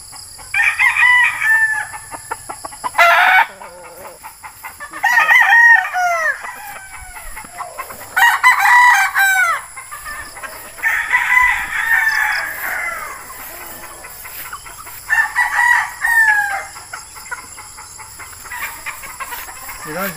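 A Beatles White stag, a young gamecock, crowing repeatedly in loud, close bursts with pauses between, other roosters calling nearby and a faint steady hum underneath.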